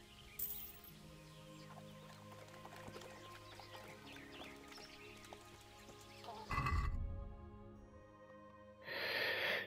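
A horse in the medieval video game Kingdom Come: Deliverance snorts and whinnies amid hoof clops and soft game ambience, with a louder whinny burst partway through and another near the end.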